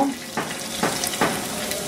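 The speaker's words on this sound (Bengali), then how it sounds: "1 কাপ মুরগির কিমা করে রাখছি, ওগুলাকে একটু ভেজে নিব" Minced chicken sizzles steadily in oil in a frying pan, with a few soft scraping bursts as it is stirred.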